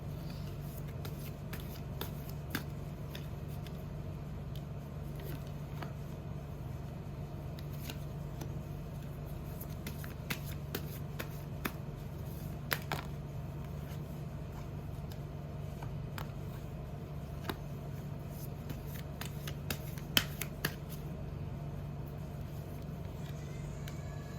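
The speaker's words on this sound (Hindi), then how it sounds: "अगर आपको शफलिंग नहीं पसंद तो आप फॉरवर्ड कर सकते हैं" Tarot cards are shuffled close at hand during a reading, a long run of soft papery riffles and scattered crisp flicks over a quiet background hum, with no talking.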